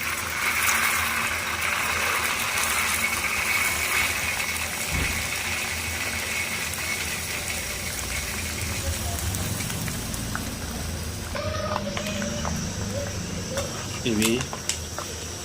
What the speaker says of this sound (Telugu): ఈ పల్లీలను మంచిగా మనం ఆయిల్లో ఫ్రై చేసుకోవాలి.